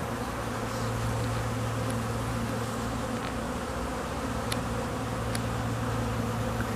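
A swarm of honey bees near a hive drones in a dense, continuous buzz, close and steady throughout, with a few faint clicks.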